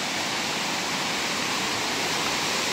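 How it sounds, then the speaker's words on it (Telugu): Kothapalli waterfalls near Paderu: a constant, dense rushing roar of falling water that stays even and unbroken throughout, heard alone with no voices. "ఇదిగో కొత్తపల్లి వాటర్ ఫాల్స్ చాలా బాగుంది"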